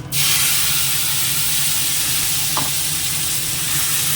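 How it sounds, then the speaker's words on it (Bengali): Dried red chillies and a little cumin hit hot oil in a kadai with a loud, steady sizzle that holds evenly throughout, one faint clink partway through. "এবার তেলের মধ্যে দিয়ে দেবো হচ্ছে দুটো শুকনো লঙ্কা আর অল্প একটু জিরে"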